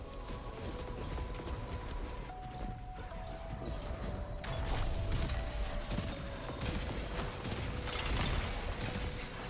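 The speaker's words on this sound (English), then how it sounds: "They've sabotaged the elevator." Sabotaged elevator machinery in the video game Destiny 2 grinds and ratchets continuously for several seconds, with steady creaking mechanical whirring that swells louder in the second half.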